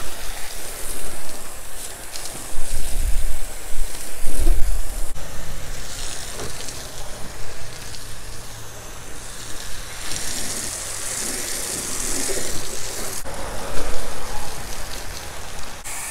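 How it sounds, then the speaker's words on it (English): Carwash Cannon hose spraying soapy water over a car at medium pressure, a steady hissing, rain-like spatter close by, rising and falling as the stream moves across the body, with no talk. "it really puts that soapy water out"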